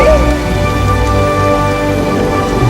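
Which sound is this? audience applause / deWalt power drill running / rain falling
rain falling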